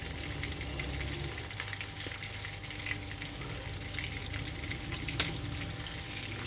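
Chicken meatballs fry in a pan as they are turned gently onto each side, giving a steady, close, even sizzle with faint clinks and no talking.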